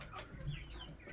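Chickens clucking inside a chicken coop on a poultry farm, a short burst of close, soft clucks over low background noise.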